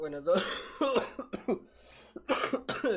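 A man coughs in several harsh, barking bursts, with short throat-clearing sounds and gasps in between, close and fairly loud in a quiet room.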